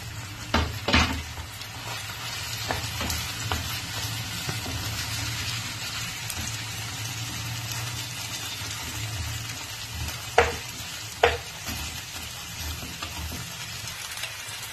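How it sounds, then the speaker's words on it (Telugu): Chopped tomato frying with ginger and garlic in a pan, a steady close sizzle across the whole stretch with a few sharp scrapes of a spoon on the pan and no talking. "ఈ టమాటా కూడా వేసిన దానివల్ల అల్లం వెల్లుల్లి వేగే లోపల ఇది కూడా వేగిపోతుంది"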